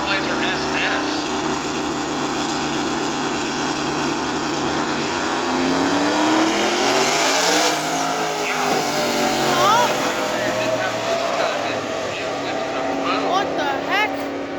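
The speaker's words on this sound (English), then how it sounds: "So the little Silverado on the left lane taking on the Trailblazer SS." A Chevrolet Silverado pickup and a Trailblazer SS race side by side on a track, engines roaring loudly and steadily with rising and falling pitch as they pass.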